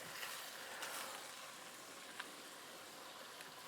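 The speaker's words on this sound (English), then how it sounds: "While our Sloppy Joe mix is simmering away right here next to me" Sloppy Joe mix simmering in a pan, a soft, faint continuous sizzle with occasional tiny pops, steady throughout with no voices.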